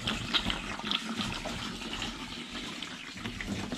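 Liquid is poured into a tank during winterizing, a continuous close splashing and gushing flow at moderate level with no talking.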